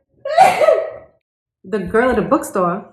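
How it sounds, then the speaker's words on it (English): One close, breathy sneeze bursts out on its own, followed after a short pause by someone talking. "girl, I gotta sneeze"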